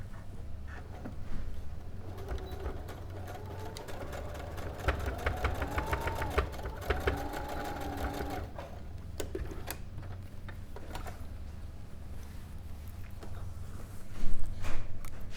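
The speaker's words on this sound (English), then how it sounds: "I'm just gonna sew close to the edge just to sort of tack it in place for the time being." Sewing machine stitching close to the edge of a bag, a steady fast mechanical whir and ticking running throughout, close and moderately loud, with a brief louder clatter near the end.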